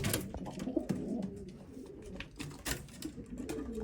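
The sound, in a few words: racing pigeons cooing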